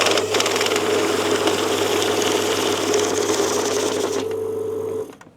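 A banknote counting machine runs a batch of cash with a continuous mechanical whir and rapid fluttering riffle, steady for about five seconds before stopping abruptly.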